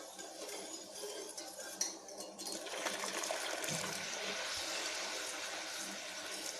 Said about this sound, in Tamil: இப்போ பால் ஊற்ற ஆரம்பிச்சிடலாம்.